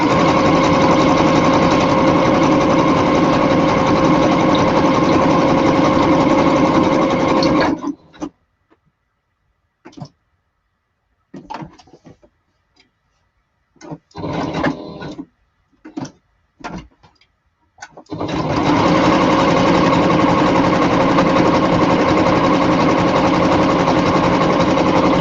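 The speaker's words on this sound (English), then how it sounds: "Sewing machines are very cool, Clint." A sewing machine runs steadily for several seconds, then stops for a stretch broken by short bursts of stitching and small handling clicks, and resumes a long continuous run to the end.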